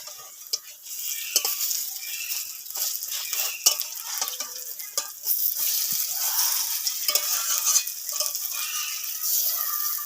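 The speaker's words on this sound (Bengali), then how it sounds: "বড়াগুলো উল্টে নেব।" Banana peel fritters fry in mustard oil in a pan and are flipped. A steady close sizzle is broken by light clinks and scrapes of the spatula, and no one talks.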